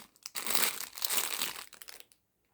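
A plastic mailer bag holding a silicone folding cup is handled and opened, giving a continuous close crinkling and rustling for about two seconds before stopping into silence.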